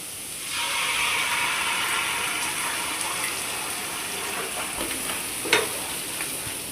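Blended spinach and cashew paste, with green chilli, coriander and a little milk, frying in oil in a pan for palak paneer, a steady close sizzle with faint stirring scrapes and one sharp clink.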